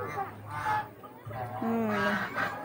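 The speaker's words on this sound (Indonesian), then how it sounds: "Ha, ni angsa," Geese honking at a farm in Kuala Selangor, several nasal, fairly close honks that repeat in uneven bursts over a low background.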